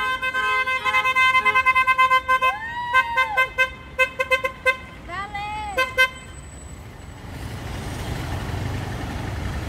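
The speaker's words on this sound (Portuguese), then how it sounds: "Buzina!" Car horns honk in street traffic during an awareness action, a series of short and longer blasts at moderate distance, followed by broadband traffic rumble as people talk nearby.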